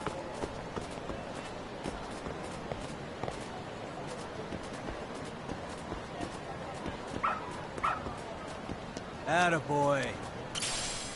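A dog in the video game Lost Judgment gives a few short yips and barks near the end, over steady game background noise and footsteps.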